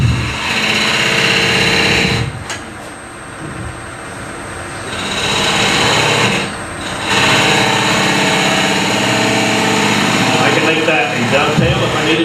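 A shallow fluted gouge cuts wood on a lathe during a woodturning demonstration, giving a steady, loud motor-like whir with brief dips where the tool lifts off the spinning piece.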